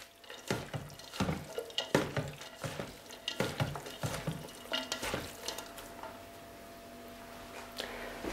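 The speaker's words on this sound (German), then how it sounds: "Müssen wir das einmal durchrühren, schön vorsichtig, dass wir uns nicht verbrennen." Warm cabbage salad is stirred in a pan, giving irregular scraping and clattering strokes with light sizzling and wet shuffling, then fading to quieter noise.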